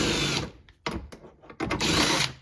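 Power drill running on a 10 mm head bolt on a Toyota Sienna rear hatch, loud whirring bursts separated by brief pauses and clicks, close up with no talking.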